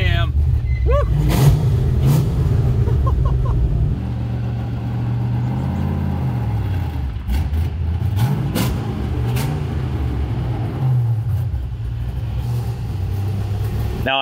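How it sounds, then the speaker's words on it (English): A widebody Porsche 911 with a big, lumpy cam pulls away and accelerates hard, its loud engine rising and falling through the revs close by, with a whoop of a voice near the start. "There we go. I'm driving it. This definitely has a gigantic cam."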